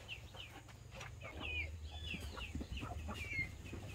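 Chickens on a dairy farm cluck softly and intermittently near cattle silage, with faint calls scattered over a steady low rumble of the farmyard.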